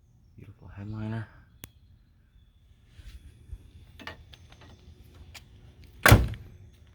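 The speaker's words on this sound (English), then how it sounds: "Door shut, beautiful." The door of an all-original 1966 Chevrolet Chevelle SS shuts with one sharp, solid thunk near the end, after a short bit of nearby speech and a few faint clicks.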